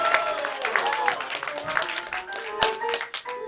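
A studio game-show audience claps and cheers in a lively, uneven burst, mixed with shouting voices and bright tonal sounds.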